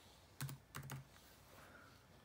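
A short burst of computer keyboard typing, a few quick clicks, then a pause and another brief flurry of keystrokes, close and fairly quiet.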